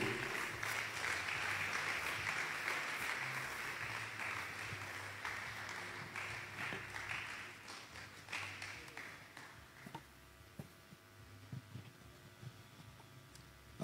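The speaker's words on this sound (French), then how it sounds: "sous vos acclamations, recevons le pasteur Alain Ndagano." An audience at a church gathering applauds as a pastor is welcomed onstage, with loud sustained clapping that thins after about ten seconds into a few scattered claps and taps.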